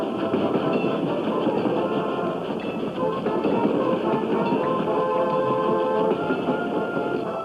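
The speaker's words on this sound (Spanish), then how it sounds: "Los trenes repletos de soldados se acercaban a la capital." Trains packed with soldiers rumble steadily toward a capital, a loud continuous rolling roar of railcars with faint clatter, in old archival sound.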